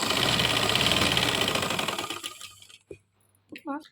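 A sewing machine stitches silk shalwar fabric in a loud, fast, steady run for about two seconds before winding down, and a voice comes in briefly at the end.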